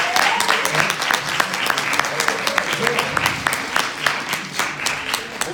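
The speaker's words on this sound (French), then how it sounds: "Je vous demande un tonnerre d'applaudissements pour Monsieur Steve Herman." An audience at an evening hypnosis show gives loud, sustained applause, with individual sharp claps standing out in a rippling rhythm over a general crowd murmur.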